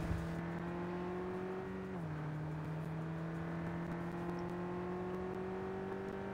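A hatchback engine in Cyberpunk 2077 drones at a steady pitch while driving, dipping briefly as it shifts, then slowly climbing again, with no voices over it.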